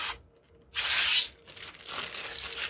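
A protective coating is peeled off a freshly cut picture disc in a sharp, bright tearing rasp, with one loud half-second strip followed by a longer, softer crinkling peel.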